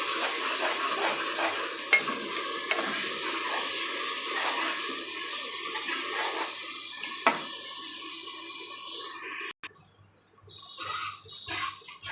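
Onion masala sizzles and fries in a pan for sheep head curry, a steady broadband hiss with a few sharp clinks of stirring, then a brief pause and quieter scraping near the end.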